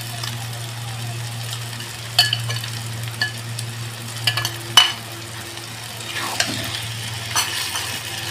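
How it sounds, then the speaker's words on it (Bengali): Fried potatoes stirred and sautéed in a pan with loitta (Bombay duck) fish curry, a steady close sizzle with scattered scrapes and clinks of a spoon against the pan. "দিয়ে আমি আবার 5-7 মিনিট ভালোভাবে কষিয়ে নেব"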